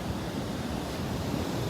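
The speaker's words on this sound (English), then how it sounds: "as you can see and probably hear, the wind is southeast" Steady southeast wind blowing at a beach, around 15 knots, with 2 to 4 foot surf, heard as a continuous broad roar of wind buffeting the microphone over rushing waves, loud and unbroken with no voices.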